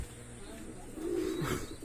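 A single soft pigeon coo, from an Oman bloodline pigeon, rises near the end of a short, quiet stretch of low background noise.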